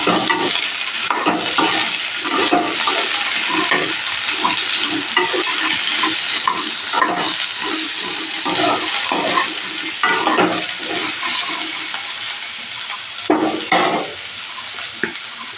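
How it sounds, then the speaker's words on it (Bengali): Vegetables frying in oil with cumin seeds in a pan, a loud, close, continuous sizzle broken by frequent scraping stirs from a spatula throughout. "সবজিগুলোকে এবার ভেজে নিচ্ছি"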